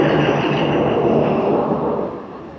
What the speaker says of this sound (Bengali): অবশেষে দেখা দিয়েছে আমাদের ট্রেন